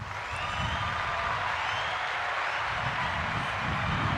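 A crowd at an indoor bowls qualifier in North Haven, Australia, applauds steadily with a broad, even wash of clapping that holds at a moderate level throughout.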